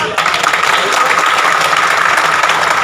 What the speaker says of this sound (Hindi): एक बार जोर से ताली होनी चाहिए।